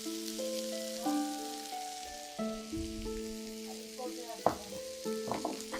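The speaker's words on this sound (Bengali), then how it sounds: "ভালো করে নেড়ে নিচ্ছি।" Vegetables frying with red chili powder for bread balls, stirred in a pan: a soft continuous sizzle with a few spoon scrapes near the end, under a melodic tune playing in the background.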